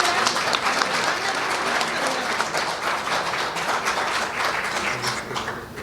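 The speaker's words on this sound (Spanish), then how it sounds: "Un aplauso, por favor." Sustained applause rises from an audience at a labour-agenda forum, dense and even clapping that continues loudly throughout without pause.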